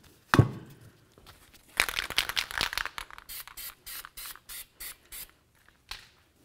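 An aerosol can of copper anti-seize sprays during a front brake pad and rotor job on a 2007-2017 Jeep Compass, with a clatter of handling followed by a long hiss and a run of short, evenly spaced bursts.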